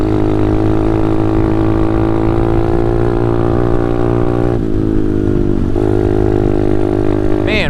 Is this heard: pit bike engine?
yes